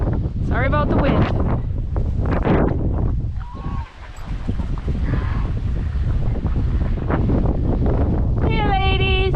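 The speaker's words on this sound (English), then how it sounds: "Sorry about the wind." Strong gusty wind buffets the microphone outdoors on a farm on a blustery day, roaring continuously through the clip, with geese or hens honking faintly at the start and end.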